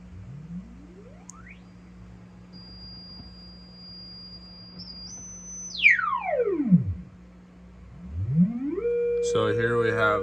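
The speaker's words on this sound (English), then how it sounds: "So here we have a sine wave or a saw wave." Steiner-Connolly Synthacon analog synthesizer playing a sine or saw wave tone with long decay: sweeping pitch glides up and down, a steady held high note, then a buzzy harmonic-rich tone at the end, with a low hum underneath.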